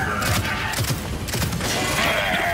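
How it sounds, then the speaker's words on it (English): Gunfire at a Warden in Gears 5, with rapid loud bursts of shots and crunching impacts over a dense, noisy battle mix, continuous and close. "Take his helmet off and shoot him in the head."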